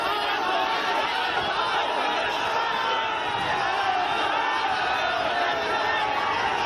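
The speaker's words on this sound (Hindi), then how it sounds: "ये देखिए किस लेवल भीड़ देखिए आप" A large, angry crowd packed outside the Chief Minister's residence, a continuous roar of many voices shouting and chattering together, loud and unbroken throughout.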